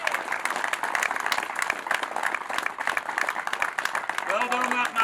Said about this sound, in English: So, big round of applause, please.